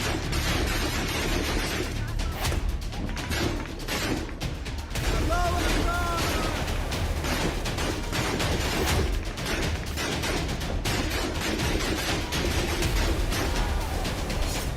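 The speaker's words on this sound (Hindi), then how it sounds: "बरसती गोलियां" Gunfire in Mazar-i-Sharif during fighting with the Taliban, heard as repeated sharp bursts of shots over a dense, noisy background, with a voice talking over part of it.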